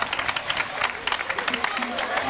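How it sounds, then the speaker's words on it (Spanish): A crowd gathered in a plaza at a parranda festival celebration claps in a dense, steady patter of applause with scattered voices mixed in. "Vamos a dar un aplauso a Agustín para que vaya calentando los motores."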